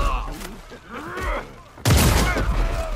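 A double-barrel Greener shotgun fires in a video game with a sudden loud blast that rolls into a sustained roar, following a stretch of quieter game sounds and faint voice-like noise.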